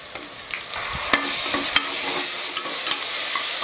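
Ginger garlic paste sautéing with onions in a pan for tomato rice, a steady close sizzle with sharp stirring scrapes and clicks of a spoon against the pan.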